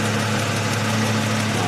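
A high-mileage 2002 Ford Mustang with a 3.8 V6 idles with a suspected exhaust manifold gasket leak, giving a steady close-up drone with a low hum and a constant hissy, ticking rush.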